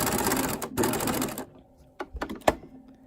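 A home sewing machine stitching along a fabric edge while staystitching, a short burst of rapid close mechanical clatter that stops, followed by a few quieter clicks and taps.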